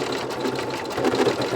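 An embroidery machine stitching an elf sweater design whirs in a quick, steady needle rhythm, close and continuous for a brief moment.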